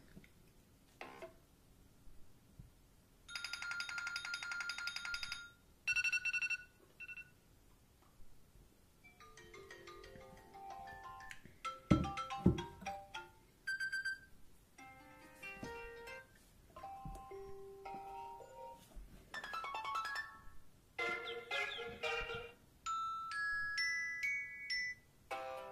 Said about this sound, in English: so these are new iOS 7 ringtones